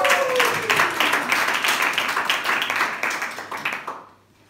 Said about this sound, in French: On applaudit les petits Smart